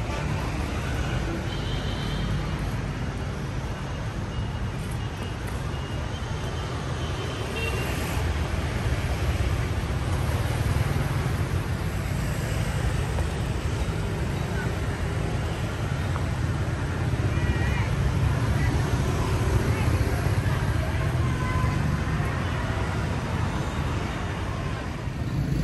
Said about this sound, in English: I've got my Honda 155 behind me here, my faithful companion. And gonna ride it around and explore the city